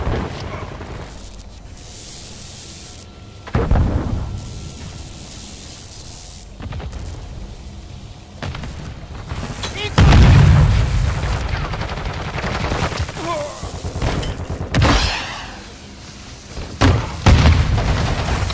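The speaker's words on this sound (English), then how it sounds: "Hostile mortar strike in the area." Hostile mortar strike in Call of Duty MWII: heavy booming explosions mixed with bursts of gunfire, loud and dense across the whole stretch, with strong blasts clustering toward the middle and end over a constant battlefield din.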